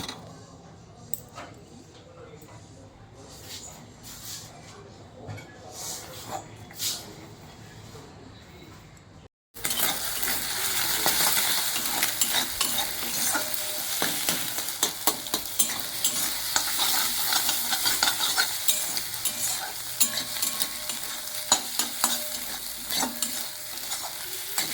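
Eggs frying and being stirred in hot oil in a wok for egg bhurji, a quiet stretch of faint clatter giving way to loud continuous sizzling with steady scraping stirring strokes close by.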